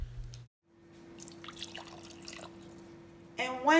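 Water pours for a candy apple syrup made with sugar and corn syrup, a light trickling and dripping stream running a few seconds after a brief low thump, ending in a louder splash.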